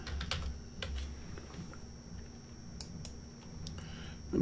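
A computer keyboard clicks as a password is typed, with irregular close keystrokes and brief pauses, fairly quiet and with no voices.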